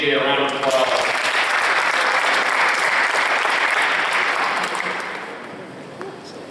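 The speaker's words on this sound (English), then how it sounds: "So give AJ a round of applause." A steady, loud round of applause from an audience at a football awards ceremony, sustained clapping filling the room for several seconds before gradually fading, with a brief voice near the start.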